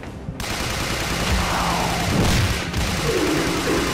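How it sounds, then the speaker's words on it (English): Rapid pistol gunfire from the video game Darkside Chronicles, a dense run of sharp overlapping shots that stays loud and steady for the whole stretch, with game effects mixed in and no talk. "I'm gonna use all the pistol bullets in this."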